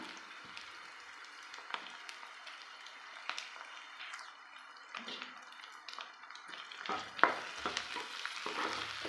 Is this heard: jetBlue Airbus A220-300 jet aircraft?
no